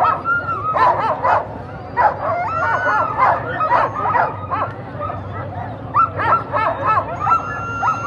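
Sled dogs at the Fur Rondy race on Anchorage's 4th Avenue bark and yip in excited, overlapping bursts before the start, loud and close, with a voice talking to the lead dogs amid outdoor crowd noise.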